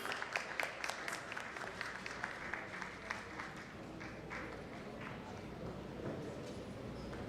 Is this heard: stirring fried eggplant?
no